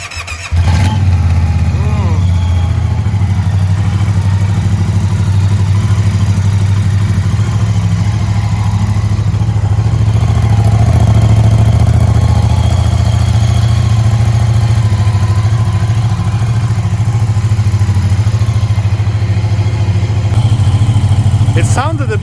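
A Moto Guzzi V100S motorcycle engine cranks over, fires up and settles into a steady, loud idle with a deep low throb that persists throughout, ending abruptly near the end.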